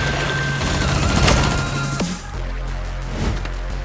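Video game gunfire rattles in a loud burst of rapid shots, then cuts off sharply midway, leaving a quieter low rumble with an occasional faint crack.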